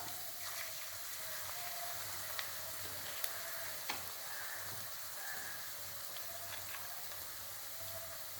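Capsicum sautés lightly in a pan for Gobi Manchurian, giving a steady, fairly quiet sizzle and hiss with a few soft stirring clicks and scrapes, and no talking.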